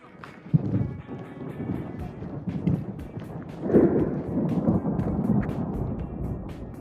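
Thunder rolls during a mountain thunderstorm on a small trail near La Plagne, a loud, close rumble with swelling bursts over wind buffeting the microphone and a faint voice.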